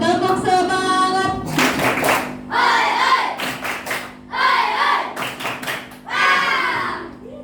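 A school class performs a rhythmic spirit clap in bursts of group claps, with children's voices chanting between and over the clapping.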